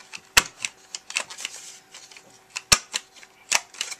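Sharp, crisp clicks of a corner rounder punch cutting through card corners, several distinct snaps spaced irregularly amid lighter handling rustles, close and dry.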